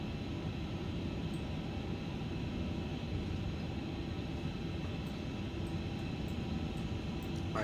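Airliner jet engines in a flight simulator game, an A340, hold a steady low roar and hum with a faint whine above it, constant and fairly quiet, with a few light clicks near the end.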